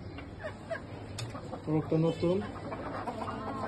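Native hens cluck and a rooster calls in a noisy farmyard, short bursts of bird calls over steady background chatter and rustling.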